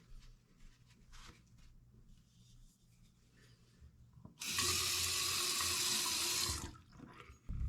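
A washroom faucet, just lubricated with WD-40 to cure its noise, is turned on and gushes loudly into the sink for about two seconds before shutting off, preceded by quiet handling sounds.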